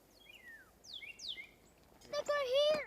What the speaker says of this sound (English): If you keep quiet, you can really hear all the birds.